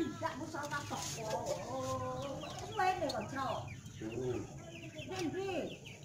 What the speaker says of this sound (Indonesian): Ini ayamnya, ayam Joper bertelur itu